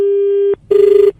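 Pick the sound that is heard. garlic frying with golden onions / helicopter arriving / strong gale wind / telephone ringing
telephone ringing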